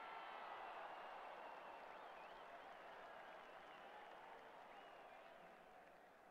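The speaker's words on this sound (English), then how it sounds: "The crowd applaud a great knock." A crowd at a New Zealand versus Australia cricket match applauds a batsman's fine innings. Distant, sustained clapping fills the stands and slowly fades toward the end.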